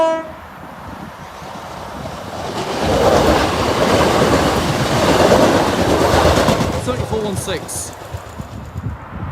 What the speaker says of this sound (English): 1104 East Midlands Railway service from Newark Northgate to Lincoln Central.